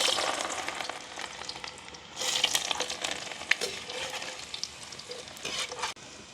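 Garlic fries in a pan of hot oil, giving a steady crackling sizzle with louder bursts as it is stirred, close and without voices.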